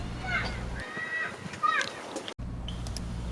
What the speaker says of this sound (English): common nighthawk,